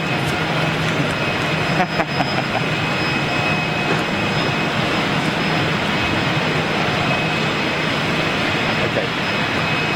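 A jet airliner taxis past at Hamburg Airport, its engines a steady loud roar and whine filling the whole stretch, with a person speaking faintly underneath.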